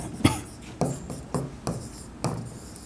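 A pen writing by hand on paper while an accounting problem is solved, giving five short scratchy strokes spaced about half a second apart, quiet and close with no talking.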